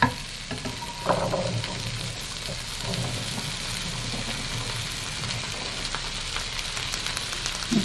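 Two cans of thoroughly rinsed chickpeas going into a hot pan: a steady, quiet sizzle and crackle with a few scraping stirs, continuing evenly throughout with no talk.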